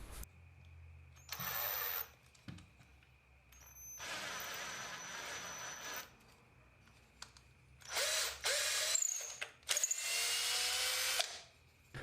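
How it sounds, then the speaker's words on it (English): A power drill taps threads into holes in hardwood for mounting bolts while a fret bender is built. Several loud, steady whirring bursts of a few seconds each come close up, separated by quiet pauses with a faint hum, and no one speaks. "I tap the holes for the mounting bolts as well"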